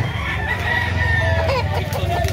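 A rooster, a gamecock, crows loudly and close by, one drawn-out call, with low murmuring voices and farmyard noise underneath, in Carbon, Cebu.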